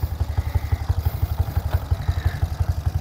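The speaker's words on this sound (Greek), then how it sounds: "το μοτέρ ακούγεται γιατί οι βαλβίδες είναι ξέσφιχτες όπως είχα πει" A Kawasaki ZX130 motorcycle engine with loose valves runs at idle close by, giving a steady, fast, evenly pulsing putter with a light mechanical clatter and no voices.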